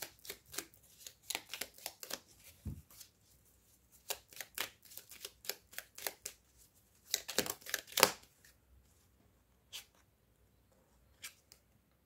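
Oracle cards for a soul-mission reading are shuffled and drawn in a quiet room, giving a string of quick, crisp riffling bursts with short pauses and a denser flurry near the end. No one speaks.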